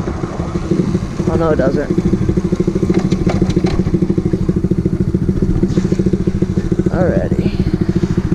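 A rebuilt pocket bike engine idles with a fast, rattly, buzzing pulse close by, holding steady throughout as someone talks briefly over it.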